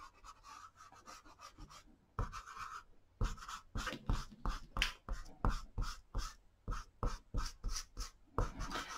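2B pencil drawing on paper, close scratchy strokes in quick rhythmic bursts, some longer sweeps and many short repeated marks, with no voices.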